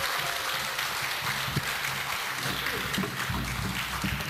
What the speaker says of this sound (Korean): 다시 한번 박수 보내주세요